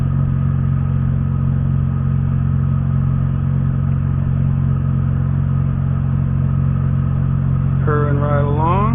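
A 1994 Mazda RX-7 FD rotary engine idles with a steady, even hum heard from inside the car, loud and constant, with a brief voice rising over it near the end.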